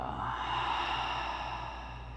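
A long, steady exhale pushed out through the mouth during a yoga breathing exercise, a soft airy breath sustained for about two seconds.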